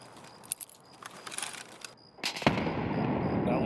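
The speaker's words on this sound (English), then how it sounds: "I have M67s. I might be able to get a nade over there." In a video game, an M67 grenade goes off: a few sparse clicks and distant pops lead into a sudden loud blast, followed by a sustained roaring, rumbling tail.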